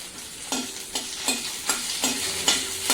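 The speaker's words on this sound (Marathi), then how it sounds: "मोहरी छान तळतळ द्यायचे" Hot oil sizzles steadily while sharp crackling pops burst out at regular intervals as mustard seeds splutter close up in a pan, with garlic and curry leaves.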